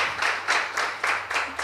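Scattered audience clapping at a tribute event for the founder of Ballet Santo Domingo, about five distinct bursts of claps in steady rhythm, moderately close, with no talking over it.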